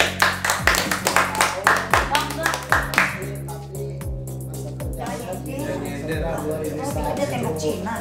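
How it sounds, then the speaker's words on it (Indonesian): A group of people claps hands at a family gathering honoring a father's career, steady rhythmic applause that starts sharp and even then blends into a denser, looser patter, close and lively. "Tepuk tangan untuk ayah."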